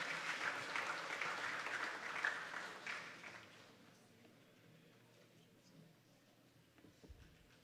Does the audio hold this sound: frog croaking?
no